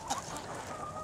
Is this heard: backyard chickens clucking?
yes